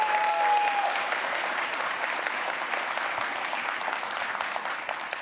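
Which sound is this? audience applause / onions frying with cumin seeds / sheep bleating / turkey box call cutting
audience applause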